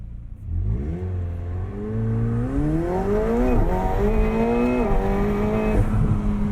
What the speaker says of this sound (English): I really want to listen to the exhaust behind me